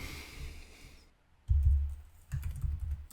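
A computer keyboard is typed on in two short bursts of clicking keystrokes after a quieter stretch, close and distinct, with no speech.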